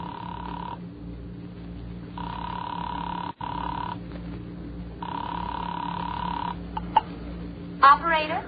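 Telephone ringing repeatedly in a radio drama, with a steady electronic bell sounding in regular bursts separated by pauses, loud and close, ending with a brief fluttering tone.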